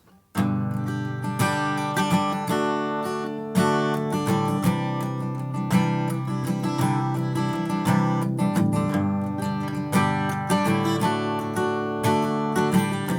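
Acoustic guitar strumming the chords of a song in a steady, even rhythm, close and clear with ringing chords and no voice.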